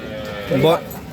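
A brief, bleating moo from a two-week-old female Sahiwal calf, rising and falling over about half a second, fairly close, with faint background noise around it.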